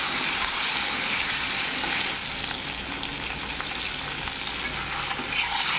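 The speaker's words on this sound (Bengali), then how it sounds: "তো গাইস আমার ডিমও ভাজা হয়ে গেছে লাল লাল করে" Eggs frying in hot oil for an egg and potato curry, a steady, close, hissing sizzle that runs without pause, with no one talking.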